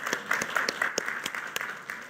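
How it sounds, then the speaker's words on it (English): A conference audience at a business summit applauds a speaker: moderate, fairly sparse clapping with distinct individual claps popping out, heard from a slight distance for about two seconds. "Round of applause for Sanjay"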